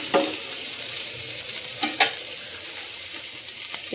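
Ingredients for a village-style fish curry sautéed and stirred in a pan, a steady close sizzle broken by a few scraping clacks of the spoon, with no voices.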